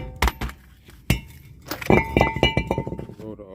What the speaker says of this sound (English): We're gonna have to hit it, tap it, because it's pretty much seized to it.